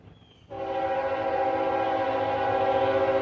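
CSX southbound coal freight train on the Chattanooga Subdivision sounding its horn at Murfreesboro, Tennessee, a loud sustained chord blaring without a break after a quiet rumbling start.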